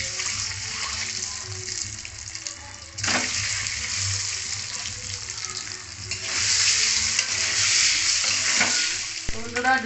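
Eggs fry in hot oil with turmeric, garlic, ginger and chili for an egg curry, crackling and sizzling loudly and close, with bursts of stirring and spattering that swell toward the end.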